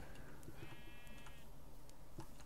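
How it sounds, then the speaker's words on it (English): A single sheep bleats in Minecraft, a short wavering cry in the middle amid faint background noise and soft scattered clicks. "The dumbass sheep looking at a tree"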